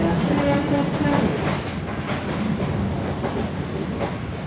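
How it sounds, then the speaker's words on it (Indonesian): A KRL commuter train pulls into Solo Balapan station with a steady rumble and rhythmic clatter of wheels on rails, loud and close, easing slightly as it slows. "sesaat lagi kereta api KRL sudah tiba di stasiun Solo Balapan"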